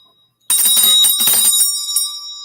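A small handheld bell with a fish on it is struck once, giving a loud, bright, close ring that sustains and slowly fades.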